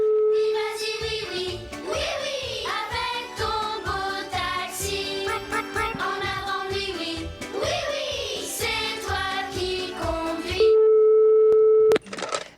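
Telephone hold music plays steadily as a busy, tinkling melody, then gives way to a loud sustained beep before cutting to near silence.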